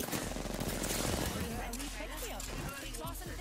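Gunfire in the video game Apex Legends, rapid overlapping shots crackling in quick bursts with a voice speaking over them.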